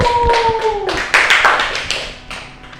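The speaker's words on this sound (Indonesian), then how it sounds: "tepuk tangan buat Mbak Widya" A class of students clapping for a classmate in an Islamic religious education lesson, a short burst of claps rising after a brief voice and then fading over a few seconds.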